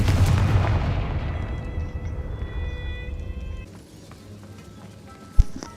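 A Confringo blasting spell goes off in Hogwarts Legacy, a loud rumbling explosion that fades away over several seconds, ending with a short sharp crack.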